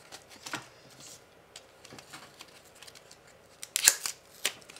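Blade snipping open the plastic packaging of a Coghlans dynamo flashlight, a run of faint, close cuts and crinkles with one louder snap near the end, no voices.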